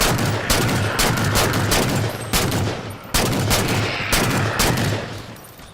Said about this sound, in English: switch to the DMR, and take him out with a headshot